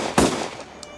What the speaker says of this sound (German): Waren das Schüsse?